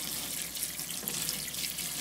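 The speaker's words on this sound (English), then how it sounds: "so let me water this in. Rehydrate this soil." Water pours steadily from a watering can onto the soil of a potted amaryllis bulb, a continuous close, hissing splash without breaks.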